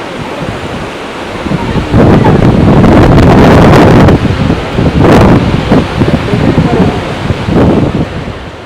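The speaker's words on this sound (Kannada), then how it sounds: "ಕಾವೇರಿಯ ವಿಭಜನೆಯಾಗಿ ಎಡಭಾಗದಲ್ಲಿ ಹರಿತಕ್ಕಂಥ ನದಿ ನಾವು ನೋಡ್ತಾ ಇರೋ ಈ ಗಗನಚುಕ್ಕಿ" Gaganachukki waterfall on the Kaveri river, dropping about 300 feet, roars loudly in heavy surging rumbles, with strong wind buffeting the microphone in repeated gusts.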